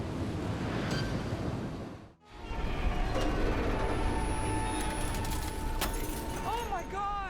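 Stormy Aegean Sea near the island of Paros, with a steady roar of heavy waves and strong wind that dips sharply around two seconds and then surges back just as loud, plus a few faint tonal sounds near the end.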